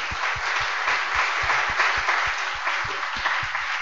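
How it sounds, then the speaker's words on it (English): Audience applause closes a conference session at a live-streamed event: a steady wash of many hands clapping, fairly loud and continuous, with individual claps standing out throughout and no voices over it. "Please join me in applauding Ingo for his excellent presentation."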